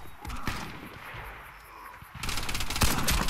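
Gunfire from the Warface shooter game: a sharp shot cracks early, then a louder stretch of rapid shots and impacts follows after a brief lull.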